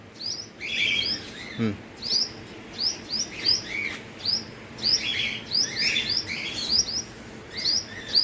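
Small birds chirp in quick repeated bursts around a squirrel outdoors near a tree, bright tweets coming close and steady throughout, with one brief rustle early on.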